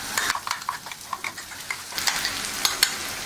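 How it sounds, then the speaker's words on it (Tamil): Ground black nightshade greens paste sizzles and fries in a pan with onions, with steady close sizzling and repeated stirring scrapes throughout, no voices. "இப்போ நாம அரைச்சி வச்சிருக்கிற மணத்தக்காளி கீரையை போட்டுக்கலாம்"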